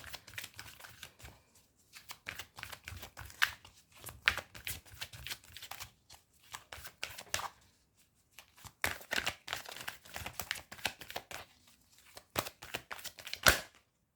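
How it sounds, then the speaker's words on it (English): Tarot cards are shuffled and pulled up close, giving bursts of crisp riffling and papery slaps separated by short quiet gaps. "I'm just going to pull out one card for that also"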